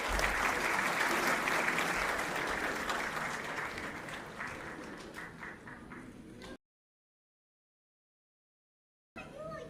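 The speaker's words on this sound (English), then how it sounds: "Can you please give a huge round of applause for Dr." An audience at a graduation ceremony applauds in a dense, loud wash of clapping that slowly fades, cuts to silence, then resumes briefly at the end.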